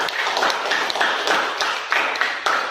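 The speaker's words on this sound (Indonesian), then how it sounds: "mari kita beri aplaus buat kelompok 3" Audience clapping for group 3 after a classroom discussion presentation, a dense, steady applause from a room of people lasting a few seconds with no voices over it.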